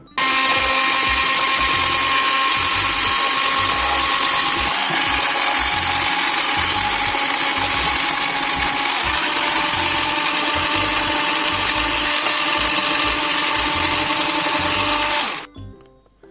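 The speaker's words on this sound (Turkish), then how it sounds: "bir robot yardımıyla bunların hepsini karıştıracağım" Electric hand mixer whipping dalgona coffee, a loud, close, continuous high motor whine holding steady for about fifteen seconds before cutting off abruptly at the end.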